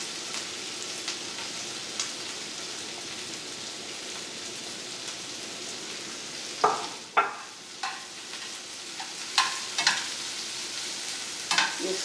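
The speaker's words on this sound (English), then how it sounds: "You saute the onions till they are slightly brown" Onions sauteing in a pan with green chili for Indian daal, a soft continuous sizzle like light rain, later punctuated by several louder scraping stirs of a spoon, close by with no voices.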